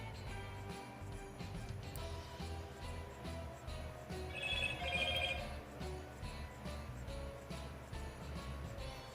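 A phone rings repeatedly at loud volume, its electronic tone pulsing steadily over a constant hum, with no voices over it.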